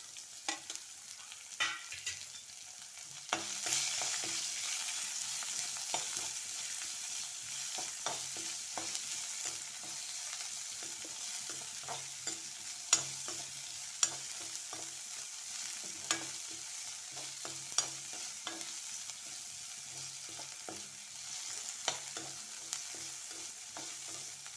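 Chopped onion and green chilies fry in a pan with a continuous bright sizzle, punctuated by intermittent spatula scrapes and knocks as they are stirred, close and steady throughout.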